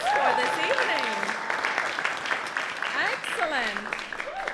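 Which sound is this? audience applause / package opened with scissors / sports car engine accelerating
audience applause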